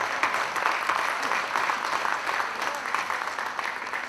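Students and families at a middle school STEM festival applaud submarine families, a steady wash of many hands clapping in a large room, moderately loud and continuous throughout.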